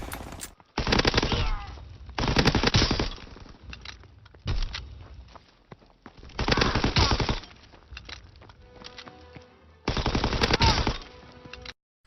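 Gunfire in Call of Duty WW2 free-for-all rings out in several loud bursts of rapid automatic fire, separated by quieter stretches of footsteps and background game sounds.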